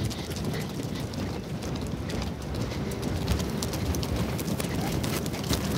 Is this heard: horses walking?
yes